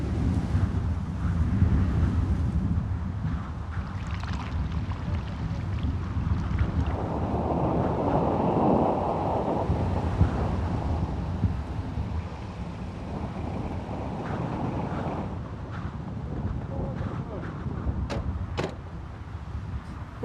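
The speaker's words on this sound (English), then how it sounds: "a sandstorm is fast approaching" Wind from an approaching sandstorm gusts across open desert lands near a river, a loud, continuous rushing roar with buffeting surges against the microphone.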